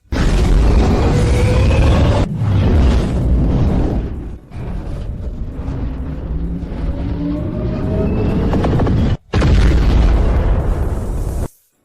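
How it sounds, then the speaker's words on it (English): Massive booming blasts with deep rumbling roar, loud and sustained, cut by sharp breaks between bursts. "Main cannon charged, fire."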